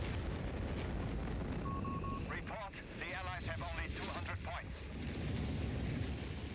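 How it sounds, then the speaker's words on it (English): Artillery shells from Company of Heroes 3 pound a capture point during a 4v4 match, a rumbling, crackling barrage of blasts running through the clip beneath steady commentator talk. "Meanwhile, we got ourselves artillery hitting that point."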